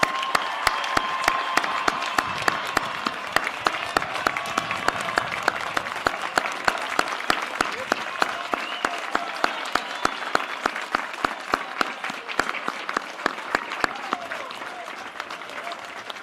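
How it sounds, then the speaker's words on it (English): Sustained applause from a large commencement audience congratulating graduates at Adrian College, dense steady clapping that carries on for many seconds with a slight easing near the end. "let us all please congratulate the graduates with a well-deserved round of applause"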